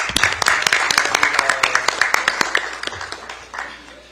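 Applause from the members at a Democratic Party supreme council meeting welcomes a newly approved council member. It begins as quick, fairly close clapping that rises sharply and then thins out to scattered claps over about four seconds.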